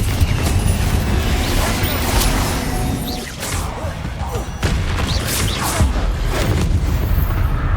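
Repeated Confringo fire-spell blasts in Hogwarts Legacy: booming explosive bursts with crackling debris and whooshes, loud and continuous with dense layered combat impacts throughout.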